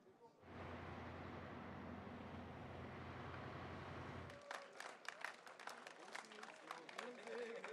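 Spectators at a motor race podium clap steadily for about four seconds, then it thins into scattered, sharper individual claps and knocks, heard from a moderate distance.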